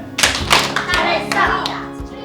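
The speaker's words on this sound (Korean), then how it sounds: "자, 우리 각자에게 칭찬의 박수 한번 좀. 자, 칭찬의 박수를." Children and their teacher applaud together in a classroom in a short burst of claps, with voices talking over the clapping.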